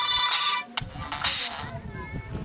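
A phone ringtone plays at a construction site, with a loud melodic ring at the start and voices talking over the background.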